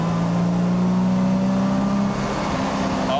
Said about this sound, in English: Downshifting into third.